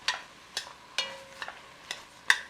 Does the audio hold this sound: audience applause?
no